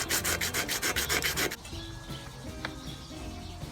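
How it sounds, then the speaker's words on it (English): 80 grit sandpaper rubbed by hand over the raised letters of a Volvo engine valve cover, quick rhythmic back-and-forth scratching strokes for about a second and a half, then quiet background with a faint clink. "I got 80 grit sandpaper. I'm just gonna do the tops of these letters."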